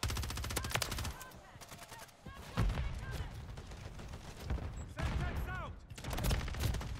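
Bursts of automatic gunfire in Call of Duty MW3, rapid loud volleys broken by short pauses, with game effect tones and chimes mixed in.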